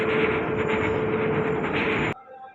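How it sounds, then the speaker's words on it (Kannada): A 16340 Nagercoil–CSMT Express train pulls into Guntakal station, its loud, steady rumble and rolling roar filling the platform up close before cutting off abruptly near the end. "16340 ನಾಗರ್ಕೋಲ್ CSMT ಎಕ್ಸ್ಪ್ರೆಸ್ ಈಗ ಬಂದಿದೆ ಗುಂತಕಲ್ಗೆ"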